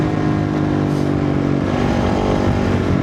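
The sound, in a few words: Kove motorcycle engine revving high in the desert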